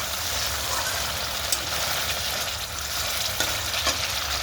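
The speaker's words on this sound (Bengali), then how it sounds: "আর এই যে দেখো বন্ধুরা অলরেডি আমার কিন্তু মশলা ভাজা হয়ে গেছে" Spices fry in a pan with a dense, continuous sizzle and crackle, loud and close, joined by a few brief stirring clicks and no talk.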